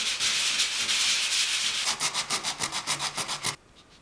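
Hand sanding feathers out divots on a 1920s Kohler clawfoot tub. Close, steady scratchy rubbing turns into quick rhythmic back-and-forth strokes, then stops abruptly.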